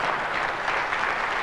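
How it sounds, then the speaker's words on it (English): Applause during an Apple keynote, a dense steady burst of many hands clapping, with one person clapping close into a microphone. "there's Gil popping up again in the video right next to him clapping into his microphone"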